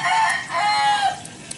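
Roosters crow loudly at a home in rural southern Vietnam, with drawn-out, overlapping cock-a-doodle-doo calls filling most of the moment before fading into quieter clucks near the end.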